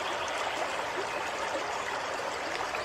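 Floodwater rushes along a swollen river in an audiobook scene, a steady, dense flowing roar that holds constant throughout without voices.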